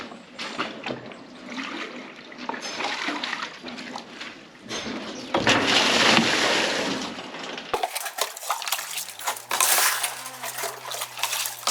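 A bucket draws water from an animals' water tank, with sloshing, splashing and pouring, knocks of the bucket and a surge of rushing water partway through, all close by and with no talk.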